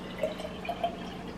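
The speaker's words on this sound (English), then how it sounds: "So I put the lemon water in now." Faint liquid trickling and a few small drips as lemon water is poured gently into a cup of green tea, quiet and close.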